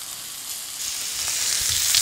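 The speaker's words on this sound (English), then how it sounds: "So as soon as you put anything in there, you get that sizzle." Beef sizzles and crackles in a hot pan while browning for braising, a loud frying hiss that grows stronger over the couple of seconds, with no talking.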